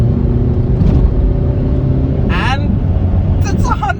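A Tata Indigo car accelerates hard with a loud, close engine rumble that builds throughout, while an excited voice talks over it from inside the cabin.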